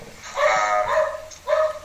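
A household dog barks indoors during a remote interview, two drawn-out yelping barks close to the microphone, loud against a quiet background.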